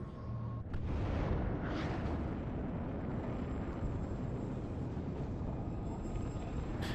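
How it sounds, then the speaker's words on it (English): A continuous rumbling roar of artillery explosions in the WARNO war game, with a sharp blast near the start followed by dense, sustained booming and crackle, loud and unbroken. "Artillery still coming in on the back, destroying"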